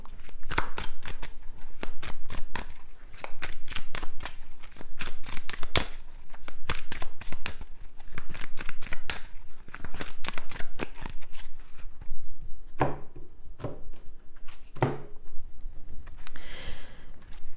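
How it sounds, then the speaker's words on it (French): Tarot cards are shuffled in a rapid, crisp flurry of riffling and slapping, then slowed to a few separate soft snaps as cards are laid out near the end, with no talking. "On va recouvrir les cartes."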